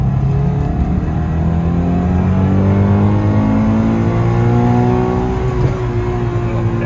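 A Subaru BRZ engine, after a coil pack repair, climbs steadily in pitch as it revs to redline, loud and close, holding near the top before easing slightly.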